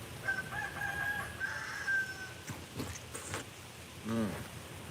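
A chicken in a fruit-tree garden gives a few short clucks and a drawn-out tonal call, fairly faint and set against quiet outdoor background noise.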